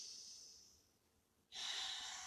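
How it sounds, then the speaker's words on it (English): A slow, deep breath during a seated yoga twist: a long exhale fades away, then a close, loud inhale sweeps in, with no talking. "Let's go for one more breath."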